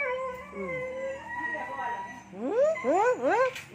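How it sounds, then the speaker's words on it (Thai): A dog howls in a rural Thai home setting, several rising and falling wails that swell in volume toward the end, close by, with some voice mixed in. "มันหอนออกมาน่ะ"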